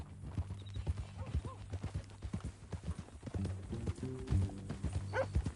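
Horse hooves clip-clop in a steady walking rhythm in the video game Red Dead Redemption 2, with a low engine-like rumble beneath and a brief whinny-like sound near the end.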